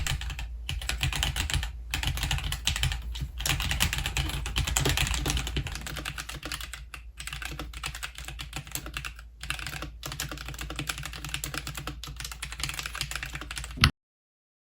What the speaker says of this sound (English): Here's a quick sound test before the upcoming mods